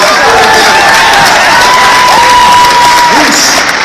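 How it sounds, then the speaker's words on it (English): A big crowd at a Las Vegas national business convention breaks into loud, sustained applause and cheering, the dense roar staying level throughout, with faint whistle-like tones above it. "Let's give them a big round of"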